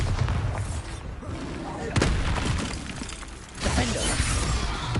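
Bombarda blasting spell in Hogwarts Legacy, a loud crackling blast with sharp shattering impacts and mechanical rattling amid dense game noise, ending in a louder surge of debris.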